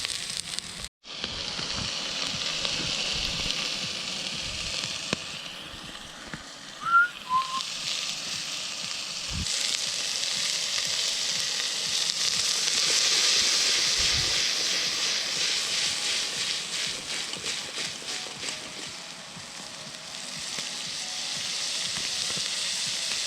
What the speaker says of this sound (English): Next step, I'm gonna fry up some vegetables.